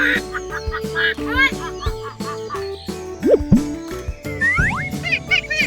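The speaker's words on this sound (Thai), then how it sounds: "นี่เลยเป็ดกาบกาบ" Loud honking quacks from ducks repeat in irregular bursts, with springy cartoonish tones mixed in.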